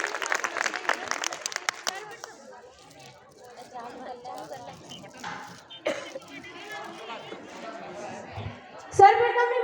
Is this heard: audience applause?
yes